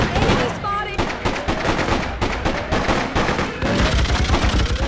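Rapid game gunfire from the video game Freedom Fighters, dense volleys and bursts of shots crackling continuously throughout with battle noise.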